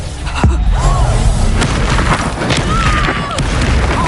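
A Reducto spell blast in Hogwarts Legacy, a loud booming burst over a busy, rumbling battle backdrop with brief whooshing spell effects.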